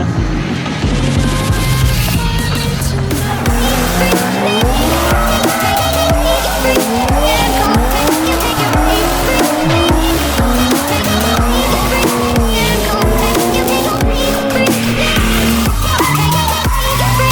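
A Ford Mustang doing donuts on a track, its engine roaring loudly while tires squeal in long wavering screeches, continuous and close throughout, with a faint voice now and then.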